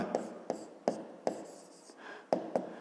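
A pen writing on paper for a fifth-grade math exercise, with quick close scratchy strokes marked by sharp taps every half second or so and a brief softer scribble near the end.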